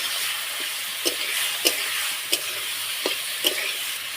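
Fried potatoes stirred into a cooked spice masala in a pan, giving a constant close sizzle with about five evenly spaced scraping strokes.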